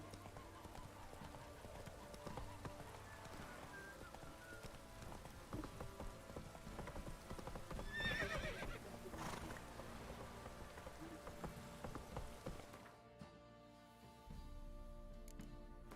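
A horse gallops in The Witcher 3 game, with rapid, rhythmic hoofbeats thudding over rainy-sounding ambience at moderate volume, then fading toward the end.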